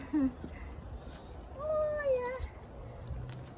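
A sixteen-year-old cat meows for steamed tilapia at a backyard meal, giving a short cry followed by a longer drawn-out, wavering meow, close by and fairly faint.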